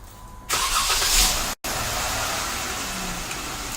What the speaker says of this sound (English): This will trigger the remote starter to start the vehicle.